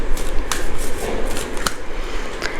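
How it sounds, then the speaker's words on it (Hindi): Tarot cards being shuffled by hand during an angel-message reading, a riffling rustle with a few sharp card snaps standing out over steady soft friction, close and fairly loud. "कनेक्ट कीजिए कार्ड्स के साथ जब मैं शफल कर रही हूँ"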